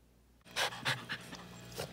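Several excited dogs pant before dinner, quick close breathy huffs in uneven bursts after a brief quiet start, with no talking.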